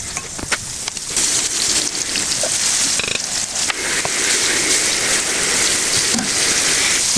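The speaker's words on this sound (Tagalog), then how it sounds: "At ayan na. Magpiprito na tayo." Chicken pieces fry in hot oil with a loud, steady crackling hiss that fills the whole stretch, broken by a few sharper pops and no talking.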